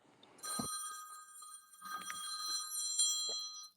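A telephone on a radio show hotline rings in several bright electronic bursts, faint and spaced apart, with a few low thumps between them.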